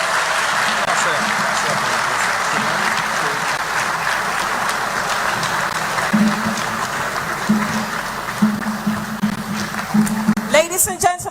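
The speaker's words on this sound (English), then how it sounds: "a round of applause for His Excellency John Dramani Mahama, President of the Republic of Ghana" Town hall audience in London applauds Ghana's President John Dramani Mahama with sustained, steady clapping and crowd noise lasting throughout, with voices and tones rising in the last seconds.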